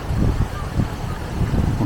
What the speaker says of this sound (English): even though it's windy and blowy